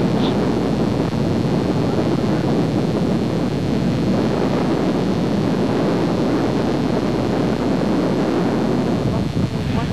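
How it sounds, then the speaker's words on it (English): High wind buffets a 66 kV power transmission line coated in half an inch of ice, a steady loud roar of gusting air filling the whole stretch without letup. "the 66 kV Line 37 is buffeted by high winds"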